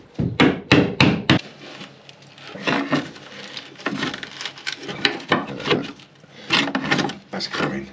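Sharp, close knocks of a chisel cutting wood inside an Ocean Pirate 30 boat come in clusters of several blows, with pauses and people talking between them.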